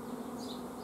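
Honeybees buzz at a modern bio-style beehive: a close, steady, continuous hum that holds unbroken through the brief moment.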